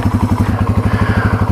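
A Yamaha TW200 dual-sport motorcycle sits stuck in deep mud in Michigan's Upper Peninsula, its single-cylinder engine thumping loudly and close in a fast, steady pulsing rhythm.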